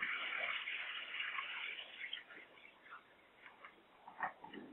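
Water is poured out of a film developing tank at home, a splashing, gurgling flow that is strongest at first and then thins into intermittent glugs and drips.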